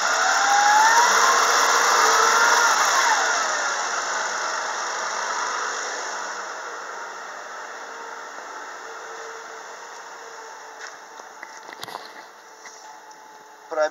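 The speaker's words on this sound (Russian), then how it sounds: "Работа двигателя на повышенных оборотах." A 2005 Nissan Murano's 3.5-litre engine holds raised revs, a steady loud hum with a whining tone that slowly eases off and a few clicks near the end; no one speaks.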